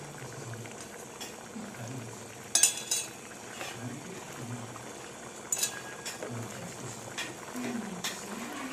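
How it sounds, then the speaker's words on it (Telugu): Mutton curry bubbles and sizzles in a pot while spices and chili powder are stirred in, with a few metallic clinks and scrapes of a spoon over the constant boiling. "కారం, వేసి మొత్తం కలపండి."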